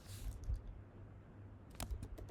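Soft keystrokes on a computer keyboard come in two short bursts of close, quiet clicks over a low room hum.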